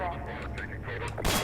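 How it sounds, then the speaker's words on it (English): Gunshot in the video game Half-Life 2: a single sharp, loud blast near the end, preceded by quieter game sounds and muffled talk. "I'll have to shoot him with my gun even."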